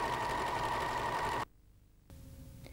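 Pfaff sewing machine stitching with an open-toe appliqué foot, a steady close whirring hum that stops abruptly halfway, then a quieter motor tone returns.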